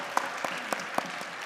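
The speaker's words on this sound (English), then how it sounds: "let's give a round of applause again." A round of applause from the audience at a Board of Education meeting: a steady, evenly spaced run of sharp claps over a soft crowd bed, moderately distant.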